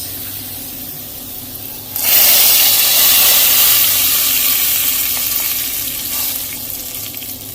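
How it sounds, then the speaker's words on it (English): Hot tadka hits cooked lentils with a sudden loud burst of sizzling hiss that rises abruptly, then slowly fades over several seconds, close up with no speech. "we will transfer this tarka into the lentils"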